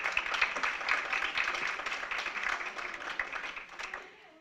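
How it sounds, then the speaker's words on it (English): Round of applause from an evening school board workshop and meeting audience, a dense, steady patter of many hands clapping at moderate distance that carries on for several seconds before tapering off. "can we give a round of applause to Dr."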